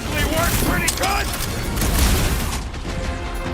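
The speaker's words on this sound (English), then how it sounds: "Gunshots usually work pretty good." Rapid gunfire and mechanical clatter from combat in the video game Guardians of the Galaxy, a loud, continuous barrage of shots and impacts with voices mixed in.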